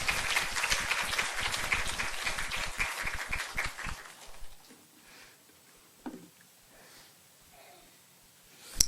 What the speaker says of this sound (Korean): 우리 한번 힘내시라고 박수로 한번 격려해 주시기 바랍니다